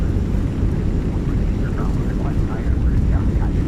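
An airliner touching down in a strong crosswind in Microsoft Flight Simulator, with reverse thrust roaring as a loud, steady, dense rumble throughout, and a faint voice underneath.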